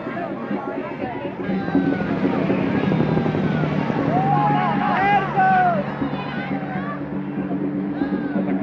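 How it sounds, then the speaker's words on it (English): A police helicopter drones overhead with a steady rotor thrum, while a crowd at a Chicago street festival murmurs and voices talk beneath it. "That's the sound of the police helicopter overhead surveying this"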